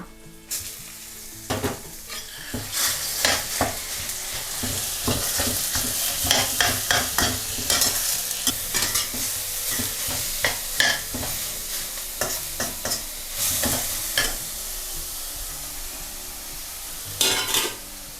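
Ground pork sizzles and crackles in a pan with garlic as a spatula scrapes and stirs again and again, a steady close-up frying sound without voices.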